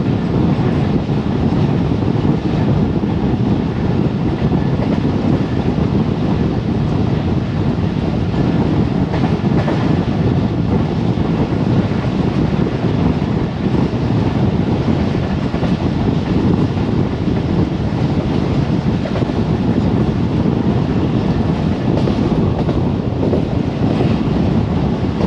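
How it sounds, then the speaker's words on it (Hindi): A super parcel train roars through Okara Cantt railway station, a loud, sustained rumble of wagons and wheels with wind buffeting the microphone, continuous for the whole stretch and no talk. "ये अभी पास हुई है सुपर पार्सल ट्रेन जो कि कराची और बनामी बाग की जानिब चलती है"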